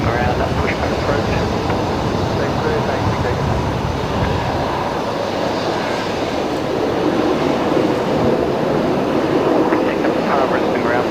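A Qantas airliner inbound from Perth roars low on very short final at Brisbane Airport, with steady, loud, broad jet noise that swells slightly as it nears, while someone talks over it.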